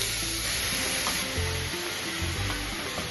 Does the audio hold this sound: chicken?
yes